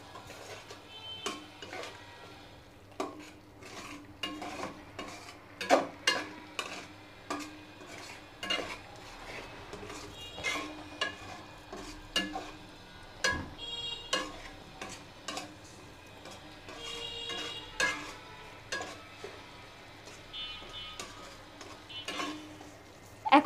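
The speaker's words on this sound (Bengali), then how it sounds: "এখন এটাকে আবার ভালো করে নেড়ে চেড়ে নিচ্ছি আমি" Spices with half a teaspoon of cumin powder stirred in a pan for prawn malaikari, a spoon scraping and clinking against the pan in irregular taps over a low, steady sizzle, close and moderately loud.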